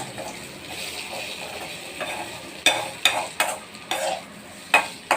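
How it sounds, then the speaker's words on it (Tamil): Elephant foot yam is stir-fried in a pan, a soft steady sizzle followed by a run of sharp metallic spatula scrapes and knocks against the pan, close and distinct. "சேனக்கிழங்கு வந்து நல்லா ஃப்ரை ஆகிடுச்சு."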